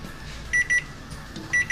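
A kitchen timer beeps in two quick pairs of bright electronic tones, fairly loud and close, over a faint background hum.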